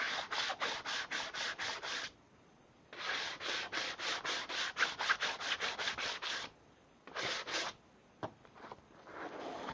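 Sandpaper rubbed by hand across wood in quick, even back-and-forth strokes, arriving in several bursts with short pauses between them, close and clear with no talk.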